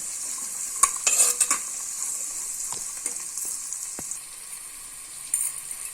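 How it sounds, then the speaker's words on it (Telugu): Sliced onions with salt frying in a pan for a potato kurma, a steady high sizzle broken by clinks and scrapes of a spoon stirring them, close and clear. "ఒకసారి కలుపుకోవాలి ఉల్లిపాయని"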